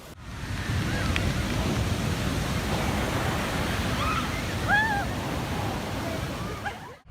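Steady roar of ocean surf breaking on a sunny beach, continuous and full throughout, with a slightly louder swell surge midway and faint bird-like chirps scattered above the wash.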